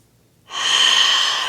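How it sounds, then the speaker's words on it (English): A long, steady exhale during a yoga session, entering abruptly after a near-silent pause, loud and close-miked with a breathy, airy hiss that holds evenly to the end, no talk. "Lots of deep breathing here."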